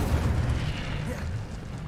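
An Incendio fire spell cast in Hogwarts Legacy, a dense low rumbling whoosh and burst of flame that fills the whole moment, loud and close with a slow fade.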